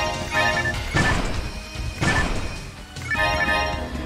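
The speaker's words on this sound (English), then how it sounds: "let's continue smashing these boxes up here" Wooden boxes are smashed in Phantasy Star Online, with three loud crashing impacts about a second apart over game music and sound effects.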